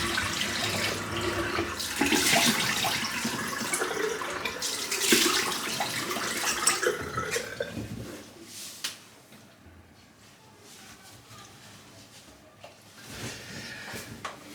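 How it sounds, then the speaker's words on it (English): Tap water runs into a sink for rinsing after a shave, a loud close splashing gush for about eight seconds that then drops to a quieter trickle with occasional clinks and splashes. "I'm just going to rinse off now."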